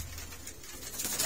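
Soft cooing from breeder pigeons in Faisalabad, Pakistan, low and murmuring, repeating through a brief moment with faint background noise.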